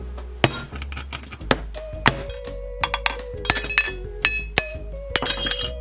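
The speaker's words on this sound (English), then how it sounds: "I ended up using the semi-broken glass, not broken enough, so let's fix that." Semi-broken glass being smashed further into sharp pieces, a run of bright clinks and cracking impacts at irregular intervals, close and crisp with glassy ringing tails.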